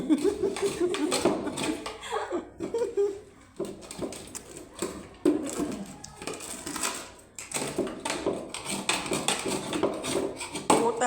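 A metal utensil repeatedly scrapes and clanks against a cooking pot, scraping off burnt rice, in irregular bursts with brief pauses and some voices in between.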